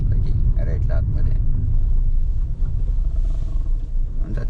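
A car passes along a road in rural Konkan, a steady low engine rumble that dominates throughout, with people talking over it.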